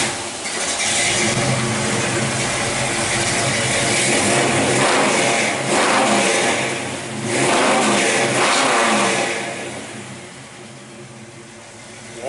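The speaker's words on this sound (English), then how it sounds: "I guess I could rev on it a little bit." A car engine swapped from a 383 to a big block is revved several times, giving loud, rough surges that rise and fall before easing off toward the end.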